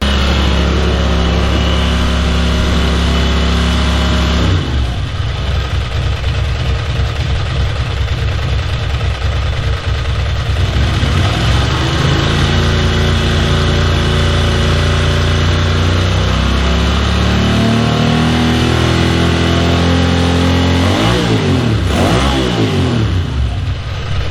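A 1992 Ducati 900SS with freshly synced carburetors and both plugs firing runs loud and close, idling steadily and then revving up and down through several throttle blips, the exhaust note rising and falling with no voices over it.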